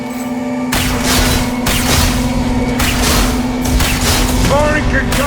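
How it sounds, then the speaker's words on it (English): Concussive shots and gunfire crack and boom in the sci-fi shooter Mass Effect 2 on Omega, several heavy blasts in quick bursts over a constant electronic hum, with game voices mixed in. "Firing concussive shots!"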